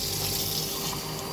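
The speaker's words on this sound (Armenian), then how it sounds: "Ու ես տաք ջուր էլ չեմ լցնում փլավի վրա, սառը ջուր։" Cold water poured onto pilaf, a steady close rushing splash that continues evenly throughout.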